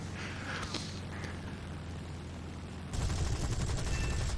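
Aircraft cannon fire in the War Thunder video game, a dense rapid rattling burst that grows louder in the last second and a half over a steady engine drone.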